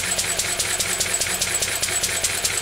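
A Lister D diesel engine runs unloaded, turning a pulley shaft, with a loud, steady, rhythmic chugging beat of even, rapid knocks, close and continuous, no talk.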